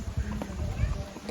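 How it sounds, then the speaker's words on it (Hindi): A horse carrying a rider passes along a mountain path on the way to Vaishno Devi, its hooves clopping in an uneven rhythm close by while people talk over it. "ओ भाई, ये घोड़े वाला भी चढ़ गया होता हमारे ऊपर।"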